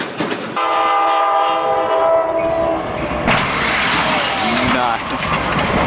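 Train travelling along mountainside tracks, a loud close horn blast sounding over steady rumbling and clattering wheels, then a rising broad roar of moving cars.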